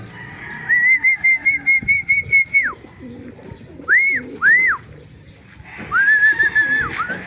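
Tippler pigeons flying and landing outdoors, with a run of rapid, evenly pulsed high whistles, two short swooping whistles, then another steady whistle, clear and fairly close over low background noise.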